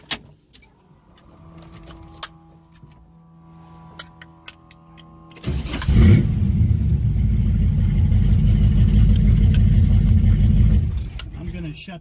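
A Chevrolet S10 truck fitted with a 454 V8 sits quietly with faint ticks and clicks, then the big V8 fires up and rumbles loud and steady at idle for several seconds before being shut off.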